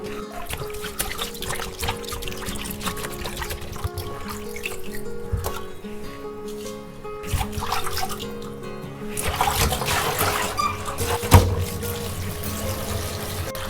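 Running water pours and splashes steadily in a sink, with intermittent clatter and handling sounds as shark meat is rinsed under the tap.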